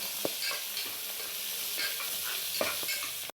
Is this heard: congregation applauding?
no